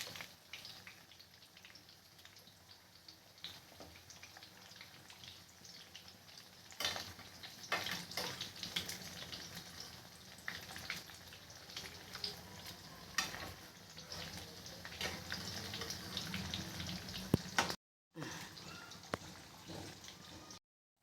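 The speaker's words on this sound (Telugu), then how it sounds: "కొంచెం కింద ఫ్రై అయిన తర్వాత అవి మూటి ఇవి తిప్పుకోవాలి" Stuffed sweet dumplings (purnam boorelu) fry in a pan with a continuous crackling sizzle and scattered sharp pops, rising in intensity toward the end, then a short break before the sizzle resumes.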